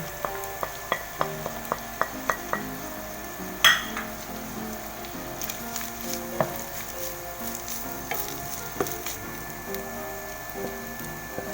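Chicken sizzles and crackles steadily in a hot frying pan, with a sharp clatter of stirring and utensil taps over the continuous fry.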